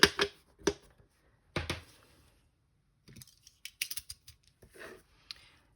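Scissors snipping paper while cutting envelope pockets for a Valentine's craft, heard as a handful of short, crisp close-up snips in two clusters with quiet gaps between.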